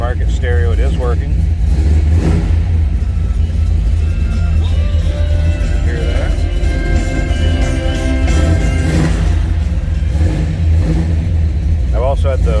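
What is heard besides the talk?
1970 Chevrolet Chevelle Malibu engine idling after cold start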